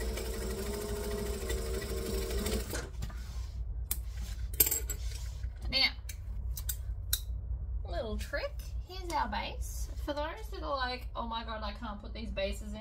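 A sewing machine stitches a tote bag seam in a steady mechanical whirr for the first few seconds, then stops, followed by scattered clicks and handling noises while someone talks.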